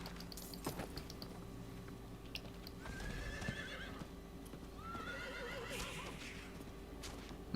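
Horse neighing during riding in the video game Diablo IV, two whinnies standing out over steady clip-clop hooves and a busy game soundscape.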